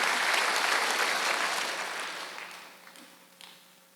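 A church congregation at a Wednesday worship service bursts into loud, full applause that gradually tapers off over a few seconds.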